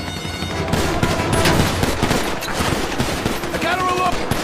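Sustained machine gun fire in Grand Theft Auto, a dense, loud burst of rapid shots that runs across the whole stretch, with a brief tonal sound near the end.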